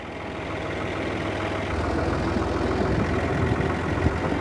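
A Fiat 480 tractor engine idles steadily at close range, a low throbbing diesel rumble with a rhythmic knock that grows slightly rougher and louder in the second half.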